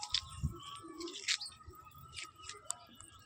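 A pigeon coos softly on a rooftop among faint chirps and occasional wing sounds, fairly quiet and close, with low background noise and no clear talk.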